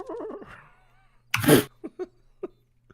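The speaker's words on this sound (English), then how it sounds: "I love it when I hear the horse in the back." Horse neighing in the background, a short wavering whinny at the start followed by a loud snort-like burst and a few small huffs against a low steady hum.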